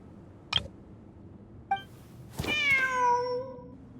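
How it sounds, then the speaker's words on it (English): A cat in the video game Genshin Impact, inside a Sumeru event scene, gives one short chirp, then another after a pause, then a longer drawn-out meow with clear harmonics, fairly near and with no talking over it. "Wait, there it is! The cat!"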